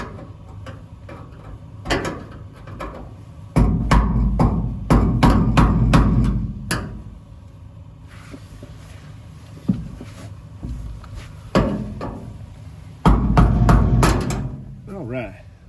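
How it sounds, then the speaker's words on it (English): A hammer drives a screwdriver to loosen the lock ring on a fuel tank sending unit of a classic Chevy truck, giving sharp metallic taps in irregular clusters, close and loud, with brief scraping between them. "I just use a hammer and like a screwdriver or a little pry bar just to loosen that up."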